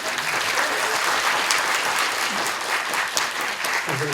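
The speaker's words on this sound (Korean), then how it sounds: "좀 뜨겁게 박수를 좀 부탁드립니다" Steady, dense audience applause fills a film premiere Q&A screening at a cinema, a continuous wash of clapping from a large crowd with no one speaking.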